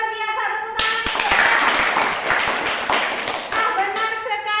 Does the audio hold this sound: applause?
yes